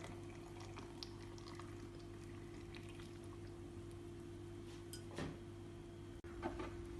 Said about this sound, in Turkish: Üzerlerini sıcak suyla dolduruyorum